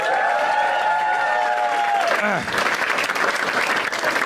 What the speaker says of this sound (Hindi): सब ताली बजा दो